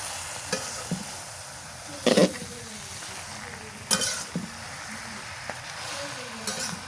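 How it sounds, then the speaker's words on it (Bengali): Malabar spinach sizzles as it is stirred into fried spice paste in a pan for a village-style fish curry, a low steady crackle with a few sharp scraping stirs. "মশলা কষানো হয়ে গেছে পুঁই শাক দিয়ে দিই"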